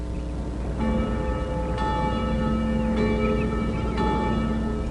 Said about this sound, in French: entendit les cloches d'église sonner